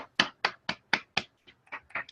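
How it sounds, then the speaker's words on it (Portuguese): A single person claps for Ju during an online meeting, giving about eight sharp, close claps in a quick, slightly uneven rhythm with a short pause near the end. "Uma salva de palmas para Ju."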